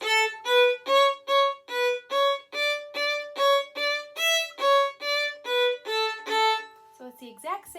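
A violin plays a steady series of separate, evenly spaced notes from Perpetual Motion, close and clear, ending in a brief scratchy flourish.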